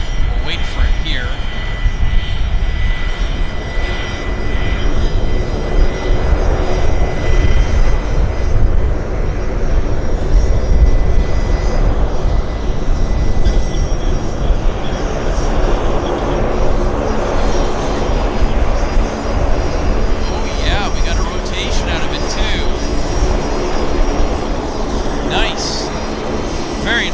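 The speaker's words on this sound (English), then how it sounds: "WestJet's rolling right there." A WestJet airliner rolls along the runway at Vancouver airport, its engines giving a loud, steady roar that holds throughout, with voices talking over it.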